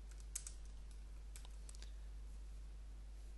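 Keystrokes on a computer keyboard while entering C# code, a few faint scattered clicks in two small bursts over a steady low hum, with no talking.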